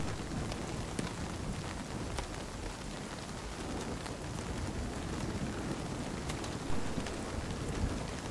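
Hail pelting down during a storm in the game Nightingale, a dense continuous hiss of impacts with scattered sharper ticks and a soft low rumble, steady throughout with no voices.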